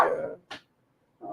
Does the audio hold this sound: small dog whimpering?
yes